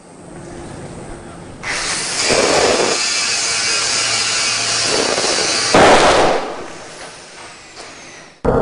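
An angle grinder cuts metal beside a battery on charge, a loud, harsh, sustained grinding roar that starts abruptly, holds steady and peaks briefly before dying away, ending in a sharp sudden burst.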